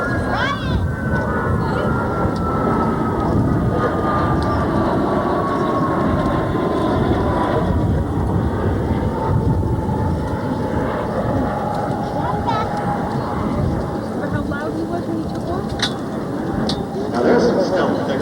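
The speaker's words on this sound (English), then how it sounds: "listen to the Whisper Pass of the U-2 Dragon Lady" A Lockheed U-2 Dragon Lady makes a low-power, quiet Whisper Pass at about 240 mph at the 1994 Quonset Point air show, a steady broad jet rumble with a slowly falling tone, heard over crowd noise and talk for the whole pass.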